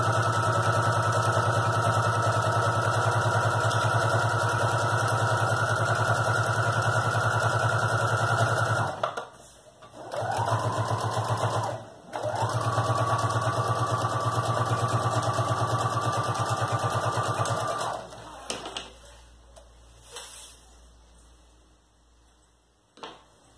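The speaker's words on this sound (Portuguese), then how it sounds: "Eu só passo essa costura de segurança aqui pra ela ficar presa" A sewing machine stitches a child's backpack, running in a loud continuous mechanical hum that breaks off briefly twice, resumes, then stops and gives way to quieter handling sounds.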